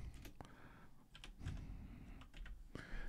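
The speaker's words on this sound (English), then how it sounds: "I have to look at my keyboard." Someone types on a computer keyboard up close, with irregular clusters of quiet key clicks and taps over faint room noise.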